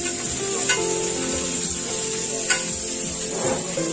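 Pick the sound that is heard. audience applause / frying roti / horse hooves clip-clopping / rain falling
frying roti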